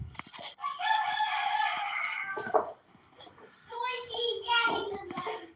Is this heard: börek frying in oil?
no